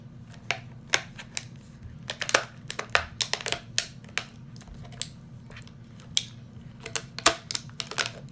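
A handheld stapler clicks again and again while stapling down through tape wrapped onto a bottle, the sharp, near, fairly loud snaps coming in an uneven run over a steady low hum.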